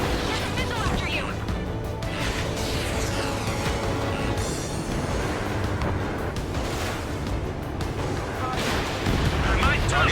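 Missiles and explosions rumble and boom in dense succession during Ace Combat 7 aerial combat, a continuous loud barrage with music and radio chatter layered over it.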